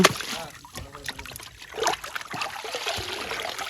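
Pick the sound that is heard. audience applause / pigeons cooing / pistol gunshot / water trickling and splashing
water trickling and splashing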